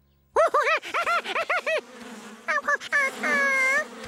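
Bees buzz in a children's cartoon, rising and falling in repeated wavering swoops, then a longer sustained hum, close and clear with no talking.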